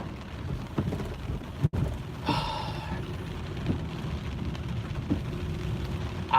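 Rain falls steadily through a thunderstorm, with a soft hiss of drops and faint low rumbles of thunder underneath, heard at a distance and fairly quiet throughout.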